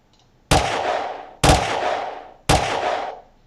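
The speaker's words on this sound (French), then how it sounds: "on va chercher un son de tir d'arme. Voilà, ici weapon, pistole." Three loud pistol gunshot sound effects from a web sound pack, each a sharp close crack with a short ringing decay, spaced about a second apart, alone.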